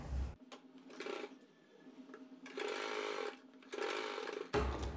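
A sewing machine runs a loose basting stitch to attach a blouse front, in three steady whirring bursts separated by brief pauses, with faint handling sounds between runs and no talking.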